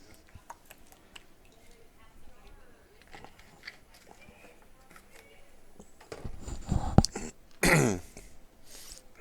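A cough caught on a commentator's headset microphone during a 2018 Oklahoma Black Gold Championships match: two loud, close bursts late in the clip, after a stretch of quiet room noise and faint clicks.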